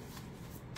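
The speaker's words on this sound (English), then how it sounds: "just want to show you, it shuffles really well." A mini tarot deck riffle-shuffled up close: a quick papery flutter of cards that ends in a louder snap as the stack comes together, with no voices.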